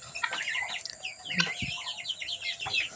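Guinea fowl on a farm give a rapid run of sharp, chattering calls at moderate distance, with a few soft thumps in between.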